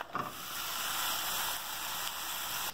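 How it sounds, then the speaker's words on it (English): A steak cooking in a pan gives a soft, steady sizzle, faint and even, with a small clatter at the start and no voices. "Now cook the steak."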